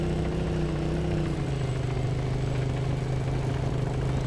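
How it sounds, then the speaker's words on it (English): A vehicle engine in a military video game drones steadily and loudly throughout, a low idling hum with a slight pitch drop early on, heard alone. "You hear the engine."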